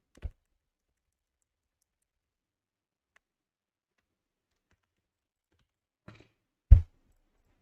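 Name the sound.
computer keyboard key presses, Control D shortcut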